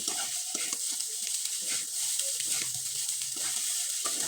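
Filling stirred in a pan for a semolina pitha, with a steady soft sizzle and repeated scraping strokes close by, no voices.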